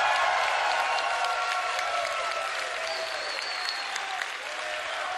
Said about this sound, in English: Please give a big round of applause for MKLeo.